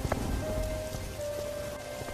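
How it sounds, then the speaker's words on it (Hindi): Heavy rain pours down in a steady, dense hiss, with scattered drops pattering close by and no voices. "इस बारिश का कोई भरोसा नहीं, ये रुके या ना भी रुके।"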